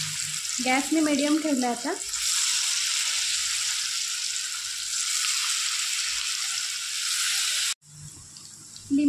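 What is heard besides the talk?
bitter gourd slices frying in hot oil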